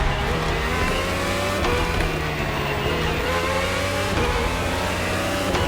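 Red Bull RB18 Formula One car with a V6 hybrid engine in a racing video game, its engine droning loud and steady with rising and falling pitch sweeps as it accelerates and shifts, continuous and close throughout with no talk.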